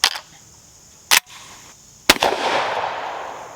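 A shotgun fitted with a poly choke set to improved cylinder fires during an outdoor pattern test, two sharp loud blasts about a second apart, the second followed by a long rolling echo.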